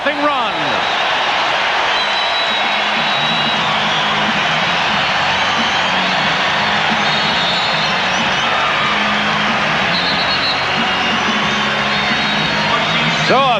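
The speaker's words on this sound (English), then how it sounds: "the crowd really cheering the defensive effort" A home crowd roars steadily during a 1994 Western Conference playoff game between the Houston Rockets and the Utah Jazz. The loud, sustained arena noise carries on throughout, with a voice speaking over it.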